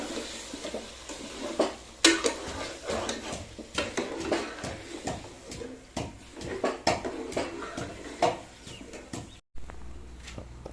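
A spoon stirs food in a pot with repeated scraping clanks and clatters against the metal, an irregular rhythm of close knocks and scrapes running throughout with a short break near the end.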